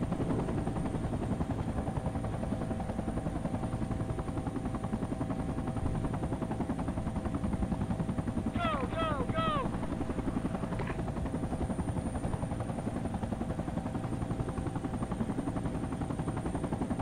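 A helicopter in the military video game Battlefield 2: Project Reality, on the Muttra City map, drones with steady rotor noise throughout, with a few brief chirping sounds partway through.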